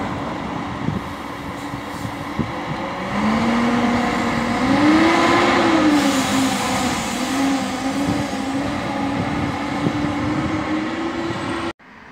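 Road Rotas intercity bus number 7748 passes close by at a bus station, a steady engine rumble swelling in the middle with a wavering whine as it goes by, then cutting off abruptly.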